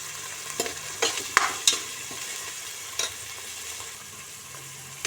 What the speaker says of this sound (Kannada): ಈಗ ಈರುಳ್ಳಿ ಎಲ್ಲ ಫ್ರೈ ಆಗಿದ್ದು ಈ ಟೈಮಲ್ಲಿ ಸ್ವಲ್ಪ ಕಸೂರಿ ಮೇಥಿ ಹಾಕಿ, ಸ್ವಲ್ಪ ಹಸಿ ಬಟಾಣಿ ಹಾಕಿ